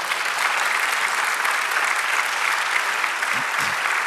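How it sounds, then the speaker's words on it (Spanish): A church congregation claps steadily throughout a sermon service, a dense and even wash of applause from many hands at moderate distance. "Dale un aplauso al Señor."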